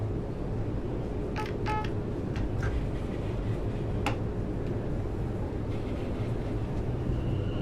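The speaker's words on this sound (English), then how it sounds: "This train is now ready to depart." A train in Train Sim World 6 moves off from a station, a steady low rumble of engine and wheels throughout, with a few faint clicks and knocks over it.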